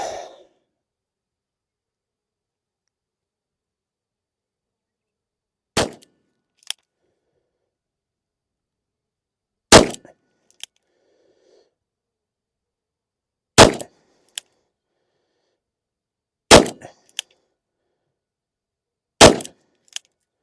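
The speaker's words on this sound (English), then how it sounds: "There's our 6 shots." A Taurus 856 Ultra-Lite .38 Special revolver fires six shots outdoors, each a sharp loud crack spaced several seconds apart, some followed by a faint metallic ping from the target, with silence between.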